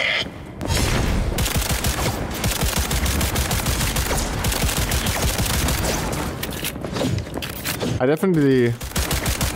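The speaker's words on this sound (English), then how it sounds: "He also has an auto-aim gun." Rapid automatic gunfire from an auto-aim gun in Cyberpunk 2077, a dense, loud stream of shots running almost continuously, with a voice talking briefly over the firing near the end.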